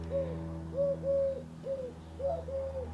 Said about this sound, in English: Damn bird really wants some attention